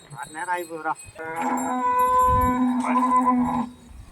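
A cow that has been unwell moos twice, close and loud: a short lowing call followed by a longer, sustained moo, with no talk.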